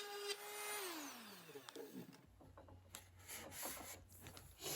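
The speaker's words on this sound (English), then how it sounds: "I don't want to bore you with too much sanding." Wooden frame pieces for a model logging truck are sanded with a power sander, giving a close, uneven rubbing rasp after a falling motor whine, with scratchy bursts as the tool moves over the wood.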